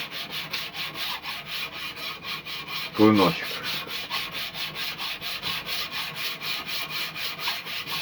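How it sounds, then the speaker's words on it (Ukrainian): Small knife blade made from a bullet being sanded by hand, a steady rapid rhythmic rubbing scrape close up, with one brief louder knock partway through and a single spoken word. "зараз я зачищаю, тобто шліфую ножиком"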